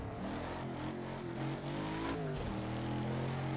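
A Lotus 40 race car in a PC racing game runs on the night-time Nürburgring Nordschleife. The engine revs high, then drops through a downshift under hard braking, and a brief tire squeal follows.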